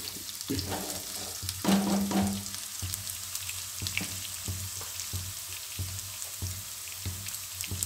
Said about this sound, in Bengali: আর তেজপাতা ফোড়ন দিচ্ছি, আর দিচ্ছি 1 চামচি নুন।